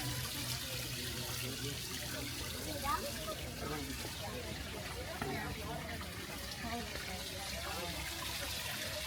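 Water flows steadily in a Japanese garden, a continuous trickling wash from a hidden source that runs evenly and unbroken throughout.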